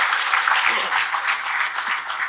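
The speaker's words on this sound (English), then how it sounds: "Please give a big round of applause to all the three panelists." A short burst of audience applause for conference panelists, moderately loud clapping from a room full of people, holding steady for a couple of seconds.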